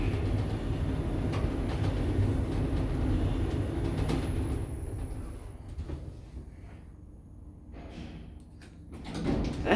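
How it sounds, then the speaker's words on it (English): A KONE traction lift with a Sigma motor at Taringa Central in Queensland runs steadily, a continuous loud rumbling hum with faint rattles and clicks, easing slightly before swelling again at the end. "That's Sigma motor, sounds like it."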